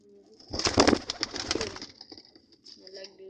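Pigeons coo in a short burst of throaty calls near the start, then the sound tapers into softer, scattered murmurs and faint wing or body rustles close by.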